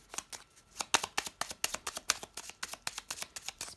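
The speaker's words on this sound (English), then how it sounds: "Please give me a sign when I should stop shuffling." Lenormand fortune-telling cards are shuffled in a quick, steady run of crisp papery riffles. The sound is close and clear, with no talk over it.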